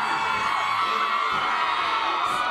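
Live studio audience of visitors from near Charlotte, North Carolina, whooping and cheering on a morning TV show, a continuous loud roar of shouts and yells with voices underneath.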